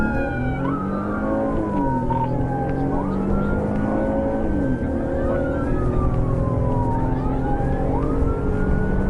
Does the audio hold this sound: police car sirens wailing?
yes